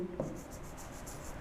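Chalk or marker writing on a classroom board, short scratchy strokes repeating in quick succession, close and clear with no voice over it.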